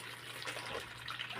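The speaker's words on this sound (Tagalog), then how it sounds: "Maglagay muna tayo ng tubig" Water is poured briefly into a pan to soak ingredients while cooking a simple sautéed patola (ridge gourd) dish, making a faint, short gushing trickle.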